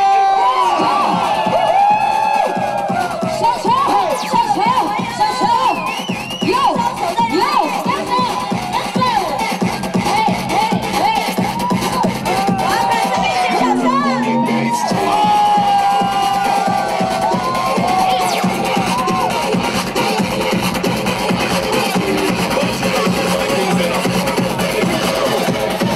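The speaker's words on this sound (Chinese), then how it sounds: "来一点最热情最大声的尖叫声" A large crowd cheers, whoops and screams nonstop at a night temple procession for the City God festival in Nantou City, Taiwan, loud and close throughout with voices shouting over the din.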